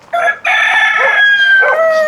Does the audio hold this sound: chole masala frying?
no